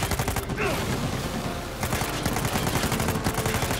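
Dense, continuous gunfire in the video game Uncharted 4: rapid overlapping shots and bursts fill the whole stretch at high, steady loudness with barely a pause.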